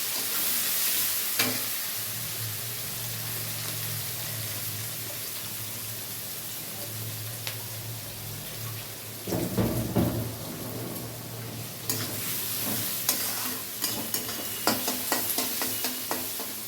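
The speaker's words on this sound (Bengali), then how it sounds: "পেঁয়াজটা ভালো করে একটু ভেজে নেব তেলের ভিতর" Chopped onion, three or four garlic cloves and green chillies fry in oil for muri ghonto, giving a constant hissing sizzle with intermittent scraping and clinking stir strokes, busiest in the second half.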